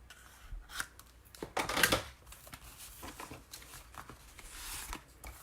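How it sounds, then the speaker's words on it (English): Several quick crisp snips as scissors trim the corners off Stampin' Up! card stock, close and fairly quiet, with a cluster of sharp cuts in the middle and a rustle of paper at the end. "take my scissors and just snip the corners off"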